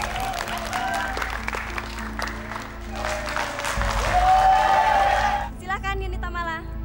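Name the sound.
audience applause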